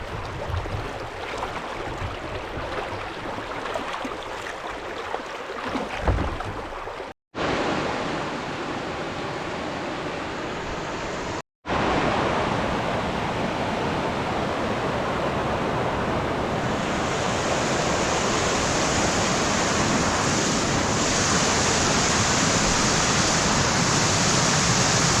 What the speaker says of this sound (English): So, you gotta get around this waterfall now.